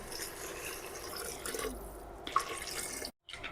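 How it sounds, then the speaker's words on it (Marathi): Hot water poured from a vessel into chicken already fried with masala for a spicy chicken misal, a steady close pour running for about three seconds before stopping abruptly. "आपण आधी गरम पाणी करून ठेवलं होतं ते आता चिकन मध्ये घालायचं"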